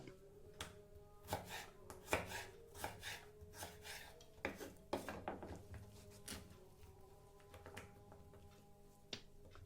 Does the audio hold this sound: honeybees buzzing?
no